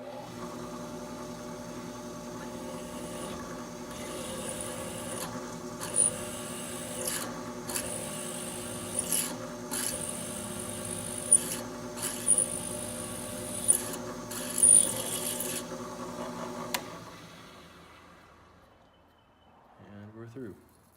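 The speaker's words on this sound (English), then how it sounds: "now we've got our pilot drill ready to go. So we're just going to drill that out real fast" A pilot drill bores a hole on a milling machine, giving a steady, close motor hum with rubbing, grinding cutting noise for about seventeen seconds before winding down and fading out.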